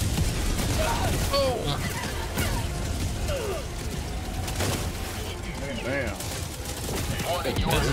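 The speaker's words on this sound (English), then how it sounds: "Warning, you are in range of enemy artillery." Chaotic Helldivers 2 combat with enemy artillery and mortar fire: a dense stream of distant thumping blasts and gunfire crackling throughout, with excited voices talking and shouting over the barrage.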